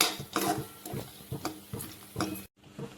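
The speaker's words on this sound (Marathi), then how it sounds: "इथे आपण भाजून घेतलेले शेंगदाणे घालूया" Roasted peanuts tumbling into a pan while cooking kande pohe, a run of close, irregular clattering taps and scrapes that ends abruptly, with no talking.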